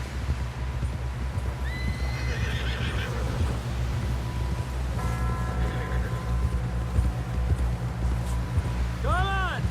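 A horse in Red Dead Redemption 2 approaching a camp, with hooves thudding rhythmically under loud, sharp whinnies and neighs, and voices talking over the top.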